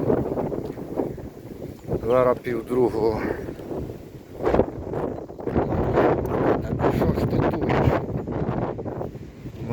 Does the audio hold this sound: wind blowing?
yes